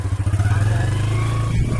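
A motorcycle engine idles close by in the Arunachal Pradesh hills, a loud steady low throb that starts choppy and then settles into an even rumble.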